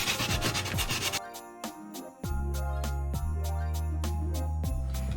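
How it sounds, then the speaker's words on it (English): A hand-held sanding block rubs over a plaster vase in steady back-and-forth strokes, close and fairly quiet, with a brief lighter scratching before the main rhythmic passes. "Ooh, I think I like the sanding block better because I'm able to hold on to it easier."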